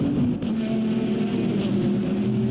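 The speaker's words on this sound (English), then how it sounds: "Here goes the number 20 GR86 up the inside of the 63 Lamborghini. Gonna be a drag race to the corner" Race cars at Watkins Glen, a Toyota GR86 and a Lamborghini, accelerate in a steady loud engine drone that holds at an even pitch, close by, with no voices.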